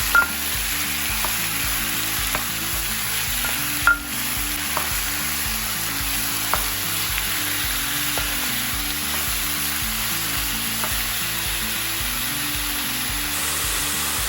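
Chicken pieces frying in a pan for Filipino chicken curry after the ginger, a steady close sizzle through the whole stretch with a few clinks and scrapes of stirring, and no talking.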